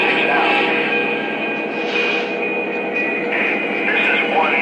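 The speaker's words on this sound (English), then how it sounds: "Train is rolling out." A Pennsylvania Railroad train numbered 1996 pulls out, giving a steady, loud rolling rumble with a hissy, radio-like edge and faint whines throughout.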